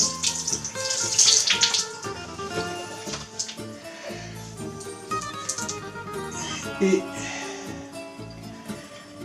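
Kitchen tap water running onto a clean kitchen towel as it is wetted, a close, splashing flow with uneven bursts, with faint indistinct voice or background sound mixed in.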